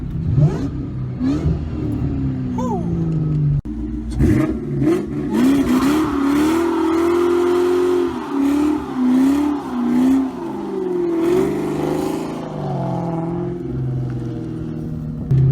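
A 2003 Mustang Cobra producing about 600 horsepower revs close by, its engine climbing and falling in repeated loud pulls with wavering pitch, one brief break near the start, then sustained high revving.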